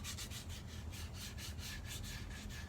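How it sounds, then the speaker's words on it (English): Hand sanding the edges of guitar pickguard material with 220 grit sandpaper, a steady close scratchy rubbing in quick repeated strokes throughout. "So I have a piece of 220 grit sandpaper, and I'm going to just get those edges nice and smooth."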